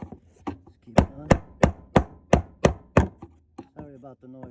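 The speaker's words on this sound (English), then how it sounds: "Just tap it some more." Sharp metallic taps on the fuel pump lock ring of a 2001 Honda Civic EX 1.7L, about nine loud, evenly spaced knocks with a few softer ones before them, ending in brief talk.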